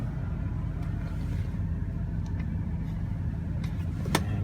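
A 2002 GMC Sierra Z71 pickup with a freshly repaired transmission idles low and steady as it is shifted into reverse, a close, even rumble with a faint click near the end.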